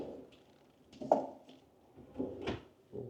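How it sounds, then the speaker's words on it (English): Deep drawers in a kitchen island are pulled open and pushed shut in a condo unit, producing several soft wooden thuds and sliding rumbles at irregular intervals, fairly close and moderately quiet. "These are deep drawers."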